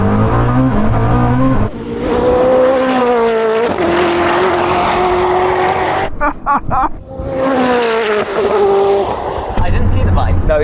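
Koenigsegg Jesko hypercar and supercharged Suzuki Hayabusa motorcycle at a drag race launch, with loud revving engine tones rising and falling through gear changes, close and powerful, with brief cuts and a voice talking over parts of it.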